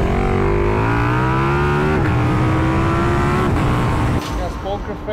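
A 2022 KTM 1290 Super Duke R Evo motorcycle accelerates hard during a track acceleration test, its engine rising loud and close in a continuous climbing whine with a brief dip as it shifts.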